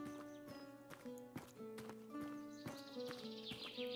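Horses trot away in the video game Tavern Manager Simulator, making a quiet, regular clip-clop of hooves over soft tonal game music.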